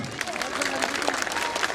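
A crowd of schoolchildren and guests applauds the 1C class at a 23 April celebration, a brief burst of dense, bright hand clapping with murmuring voices mixed in.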